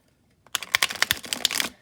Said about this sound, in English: We'll do some shuffling now.